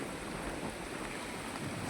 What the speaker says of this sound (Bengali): দেখতেই পাচ্ছ খতরনাক বৃষ্টি হচ্ছে